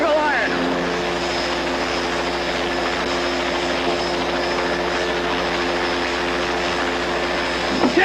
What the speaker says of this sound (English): I'm taking this chopper, Corporal